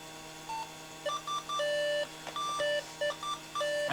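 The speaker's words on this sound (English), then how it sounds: "And we've got a lot of beeps." A Pentium 3 Slot 1 PC sounds a series of electronic beeps right after power-on. The beeps come in short and long tones at different pitches in an irregular pattern over a faint steady hum.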